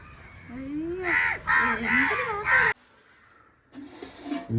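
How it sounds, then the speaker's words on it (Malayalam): Crows caw loudly in a rapid series of harsh calls, then fall quiet before a few more caws; a voice talks underneath. "പത്ത് നൂറ് കാക്കകൾ വരും"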